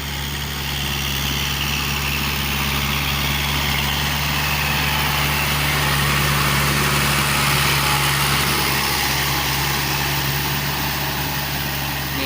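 Kubota L5018 tractor plowing a rice field, its diesel engine droning steadily and loudly close by for the whole stretch with a constant low hum and no talk.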